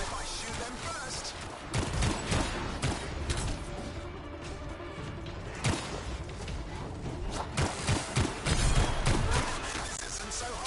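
Sustained bursts of gunfire in the video game Anthem, with dense overlapping shots, sharp impacts and whooshes that rise in clusters over ten seconds amid battle noise, with voices speaking at times.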